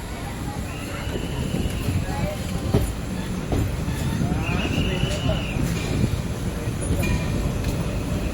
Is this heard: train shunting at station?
yes